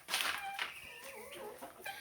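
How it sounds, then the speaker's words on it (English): Chickens in a barn, a few soft clucks and short calls at close range against a quiet background. "Then we have our chickens here in our barn."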